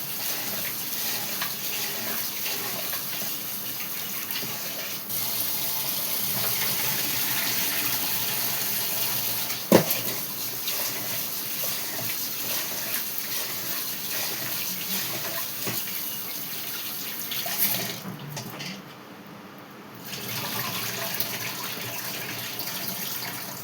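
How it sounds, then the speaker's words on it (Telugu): Rice is washed under a running kitchen tap: a steady, close gush of water pours for a long stretch, with a sharp knock partway through and a short lull before the flow resumes. "ఈ కూర ఉడికేసరికి బియ్యం నానతాయి, అందుకని కడిగేసాను."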